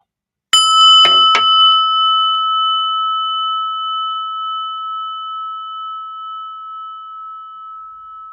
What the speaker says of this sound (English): I want you to listen to the prayer bell